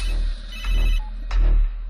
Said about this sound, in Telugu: ఫోన్ వస్తుంది చూడు, లిఫ్ట్ చేయి.